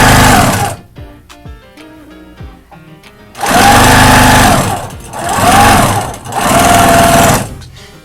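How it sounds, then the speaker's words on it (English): A Baby Lock Quilter's Choice Professional sewing machine stitches quilt strips in three loud, fast bursts of rapid mechanical whirring, separated by a quieter stretch of faint handling clicks. "Brother also has a sewing machine like this"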